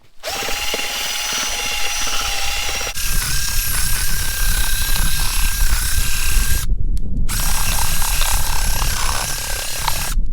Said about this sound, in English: to mix the paint we just use a drill and this homemade contraption to mix the paint